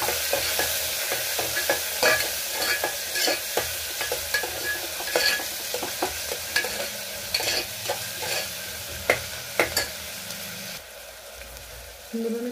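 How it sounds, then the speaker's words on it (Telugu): Green chillies and onions stir-fried until brown for an Andhra-style chicken pulao, a constant close sizzle broken by repeated scraping and stirring clatters of a spoon in the pan, with no talking. "అది కొంచెం వేగాక పచ్చిమిరపకాయలు, ఉల్లిపాయలు వేసుకొని అది బ్రౌన్ కలర్లో వచ్చినంత వరకు దాన్ని బాగా కలుపుకోవాలి."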